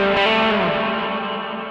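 Electric guitar chord ringing through a TC Electronic Arena reverb pedal, a bright sustained wash that swells briefly then decays in a long smooth tail, alone with no talking.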